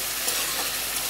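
Coriander leaves sautéing in a pan for a kasundi dish, a brief, even hiss of frying heard close and moderately loud, with no voices.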